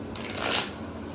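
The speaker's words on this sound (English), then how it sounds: "That's a long shuffle, right?" A quick riffle of tarot cards being shuffled, a brief papery flutter lasting about a second, close and moderately loud.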